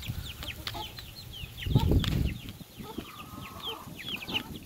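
Young chickens cluck and peep while feeding on treats, with many short chirps overlapping and a brief close scuffle of movement midway.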